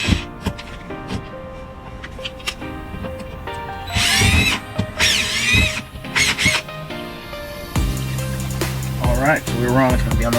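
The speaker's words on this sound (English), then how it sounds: "Just gonna put a screw right there, see if we can feel the stud" Cordless power drill driving a screw into a drywall wall while locating a stud for a TV mount, heard as several short whirring bursts with pauses between them, close by, with a person talking nearby.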